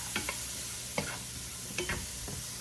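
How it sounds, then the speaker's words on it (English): Onions and vegetables sautéing in a pan for stuffed bell peppers, a steady soft sizzle broken by a few short scraping stirs of a utensil, close and fairly quiet with no talking. "Let that saute until it starts turning translucent"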